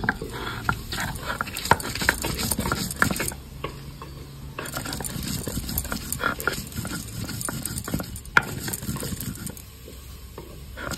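Soaked chillies, ginger and garlic are being ground into a paste, giving steady rough scraping and grating strokes in an uneven rhythm, close but fairly quiet, with no talk.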